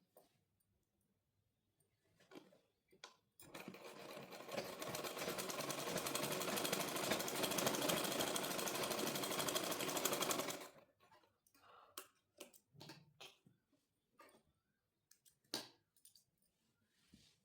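A sewing machine hums in one continuous run of about seven seconds while attaching a pocket to palazzo pants, close and fairly quiet, with scattered handling clicks before and after.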